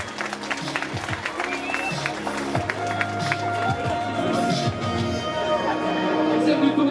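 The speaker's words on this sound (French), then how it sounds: "On peut applaudir la formation Arkea Samsic." Crowd at a cycling team presentation applauding, steady clapping and some cheering that builds over several seconds while an announcer talks over it.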